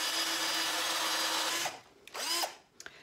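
A power drill bores into wood for a plant pot stand, a loud steady whine that stops abruptly, followed by a short second burst as the bit is pulled up, then quiet.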